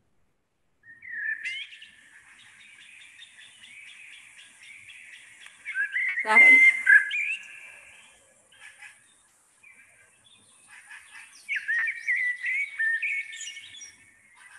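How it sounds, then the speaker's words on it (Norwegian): Eurasian blackbird song played back from a recording: mellow, fluting phrases with varied twittering notes, moderately loud and separated by short pauses. One brief spoken word is heard. "Da var svarttrosten."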